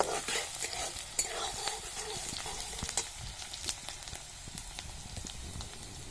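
Onions frying in oil in a pan for a village-style egg dish, a constant close crackling sizzle with frequent scraping and clinking of a spoon stirring them.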